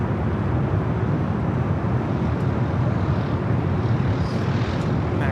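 A jet airliner lines up on runway 25 right at Los Angeles International Airport, a steady broadband engine rumble holding at constant loudness throughout without any voices.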